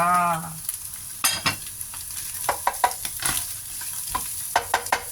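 Onion and carrot stir-fry in a pan, a steady sizzle punctuated by irregular scrapes and knocks of a spatula against the metal, heard up close with a brief tonal sound at the start.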